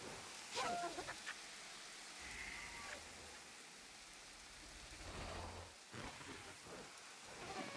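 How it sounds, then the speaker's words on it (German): Steady rain hisses throughout in the video game Jurassic World Evolution, with low rumbles of thunder rolling in and out and a voice speaking faintly at times. "der Regen ist ganz schön übel"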